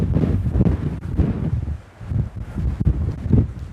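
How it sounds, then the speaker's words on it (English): Wind buffets a microphone outdoors on Coombestone Tor, rough gusty rumbling that rises and falls in uneven surges throughout. "No, the wind's coming from that way."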